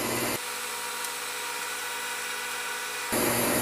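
A steady broad hiss of air bleeding slowly into a freeze dryer's vacuum chamber, loud and continuous for about three seconds between louder background noise, with no talk.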